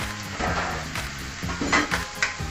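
French beans stir-fry in a pan, giving a soft sizzle with a few clattering scrapes and taps of a utensil stirring against the pan.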